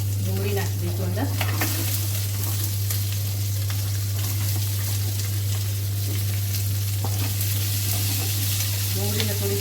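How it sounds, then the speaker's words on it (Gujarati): Chopped onions and green chillies sauté in a pan with a constant close sizzle, interrupted now and then by stirring scrapes and clatter, over a low steady hum. "ડુંગળીને થોડી સાંતળીશું, પછી ટામેટા નાખીશું."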